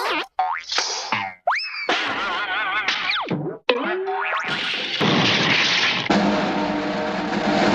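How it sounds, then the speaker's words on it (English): A Hanna-Barbera acrobatic drum roll cartoon effect, heard as a loud, close run of twangy boings and springy whistling slides that ends in a dense, sustained rattling roll. "This is a Hanna-Barbera acrobatic drum roll."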